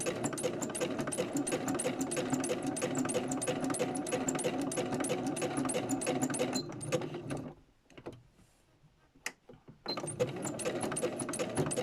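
A sewing machine stitches a fabric journal cover, running steadily and close for several seconds, pausing briefly around the middle, then starting up again.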